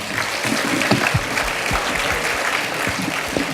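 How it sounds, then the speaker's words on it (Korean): Audience applause fills the room at the close of a high school debate contest final, steady clapping from a crowd throughout with no voices over it. "토론에 참여하신 모든 분들에게 힘찬 박수 부탁드립니다."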